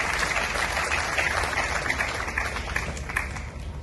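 Applause for the mayor at a municipal ceremony honouring teachers on Teachers' Day, a steady dense wash of clapping from a large audience, loud and sustained throughout with no voices over it.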